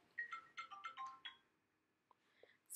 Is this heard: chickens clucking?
no